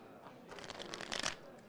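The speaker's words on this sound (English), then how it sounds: "Now I'm going to shuffle it all into one pack." A deck of playing cards shuffled together into one pack, a quick close riffle of fluttering, slapping card edges that builds to a brief burst and then stops, with no voices over it.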